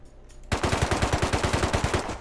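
Rapid automatic gunfire from a gun fired from the hip in the survival game Rust, a sustained burst of about fifteen evenly spaced loud shots that starts abruptly after a quiet moment.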